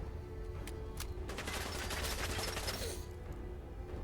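Enemy gunfire in Fallout 4: fairly faint, rapid shots and quick bursts over a steady game hum, with a mechanical rattle in the busiest middle stretch.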